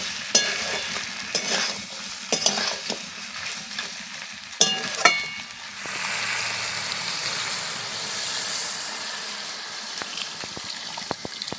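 Goat head meat is stirred and fried in a pan over a village cooking fire, with loud, close scraping and stirring strokes over frying, then a broad, steady sizzle and hiss that swells for several seconds before stirring clatter returns, no one talking.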